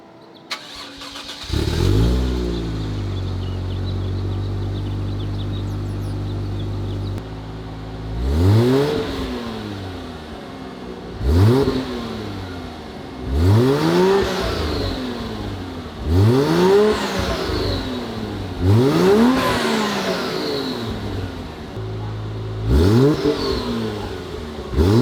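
A 1JZ-engined Toyota Soarer with a louder exhaust cranks and catches, idles briefly, then revs up repeatedly in loud rising bursts, each falling back before the next.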